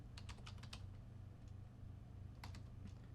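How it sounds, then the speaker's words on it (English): Quick bursts of typing on a computer keyboard, crisp close key clicks in two clusters over a steady low hum, quiet and with no talk. "She's typing."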